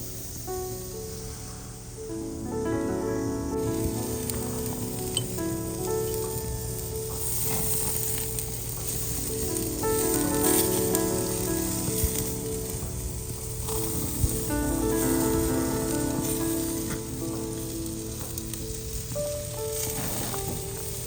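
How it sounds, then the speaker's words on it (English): Filet mignon steak sizzles steadily in a pan while being basted with melted butter and rosemary, in cold outdoor conditions at about −20°C. A continuous frying hiss runs throughout, with tonal music-like notes layered over it. "Keep basting it with melted butter and rosemary as you go."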